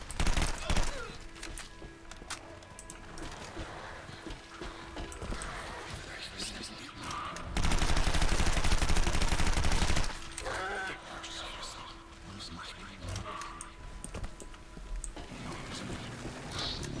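Light machine gun fire in a first-person shooter on Legendary difficulty in a city under siege, with loud dense bursts running throughout and a heavier sustained stretch midway, while someone talks over the shooting.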